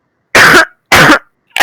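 Two sharp, loud coughs blasted straight into a microphone with a brief pause between them, and the start of a third at the end.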